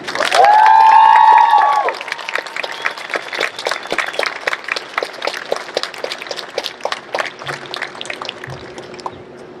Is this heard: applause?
yes